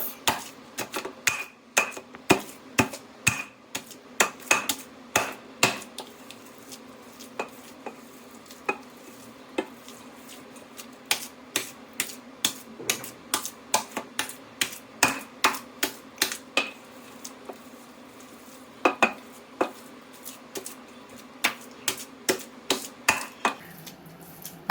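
Cooked glutinous rice being pounded by hand with a makeshift tool to make mochi at home, Japanese style, giving a long run of sharp, close thuds in irregular bursts, sometimes quick and clustered, sometimes spaced out, with no talking.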